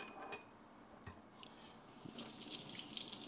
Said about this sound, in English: rinse the knife off